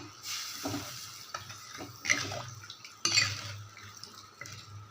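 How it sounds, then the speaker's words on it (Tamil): Tamarind water is poured into a hot pot for spicy kara kuzhambu curry, hissing and sizzling, with soft clinks of utensils against the pan. "இதில் நம்ம கரைச்சி வச்சுருக்க புளி தண்ணியை ஊற்றிக்கலாம்"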